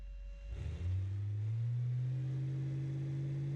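Virtual car engine in the BeamNG driving game climbing from a low rumble into a strong, steady rev that holds loud and even, with no talking.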